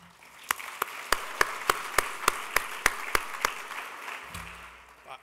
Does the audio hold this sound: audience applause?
yes